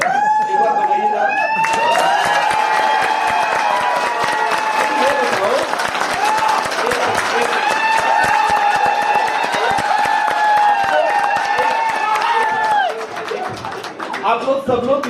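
Sustained audience applause at an LDP Day meeting in Nainital, a dense, close roar of many hands clapping together. A tonal sound runs over it throughout, and the clapping thins slightly toward the end.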